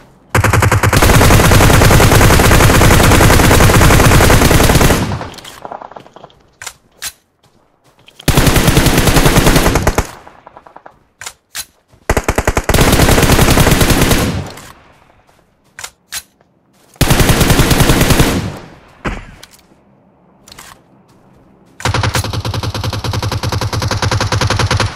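Long bursts of rapid automatic gunfire, loud and close, come in several sustained volleys with short silent gaps and scattered single shots between them.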